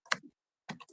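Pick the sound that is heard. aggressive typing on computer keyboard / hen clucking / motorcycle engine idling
aggressive typing on computer keyboard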